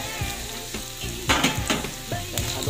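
Sliced potatoes fry in a pan with a lively close sizzle, broken by repeated scraping and stirring knocks from a utensil at an uneven rhythm.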